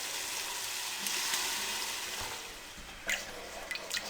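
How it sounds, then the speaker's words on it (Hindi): Tomatoes frying in a pan give a soft, steady hiss and sizzle, fairly faint, with a couple of brief clicks and stirring knocks toward the end and no talk. "टमाटरों को 1 से 2 मिनट के लिए इन्हें अच्छी तरह भून लें।"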